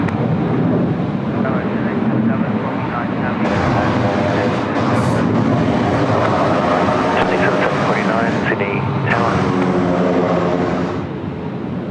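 An Airbus A330 on a ferry flight sits on runway 34 at Sydney Airport, its engines producing a loud, continuous roar close by, with someone speaking over it and air traffic control chatter.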